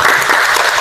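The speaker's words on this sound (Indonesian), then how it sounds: "Beri tepuk tangan." A brief burst of classroom applause from students in an informatics lesson, dense and loud, lasting under a second.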